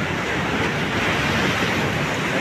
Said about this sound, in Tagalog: Lalaki ng alon guys, nakakatakot ha